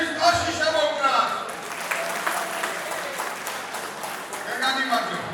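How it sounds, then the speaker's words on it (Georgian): Wedding guests break into a burst of clapping at the host's call, dense and close, swelling and then holding steady for several seconds, with a voice speaking at the start and again as it ends. "აბა ერთი განწყობის ტაში შემოვკრათ."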